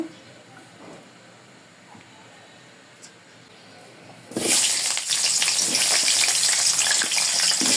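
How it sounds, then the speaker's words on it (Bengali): Cut potatoes drop into hot oil in a kadai on the stove: after a quiet stretch of room noise, a loud, steady sizzle suddenly erupts and carries on. "এখন আলুগুলো একটু ভেজে নেব"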